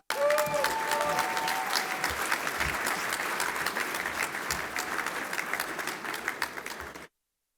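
Sustained applause from a conference audience welcoming a speaker to the stage at a business program, dense steady clapping for about seven seconds before cutting off abruptly, with a few scattered cheers early on.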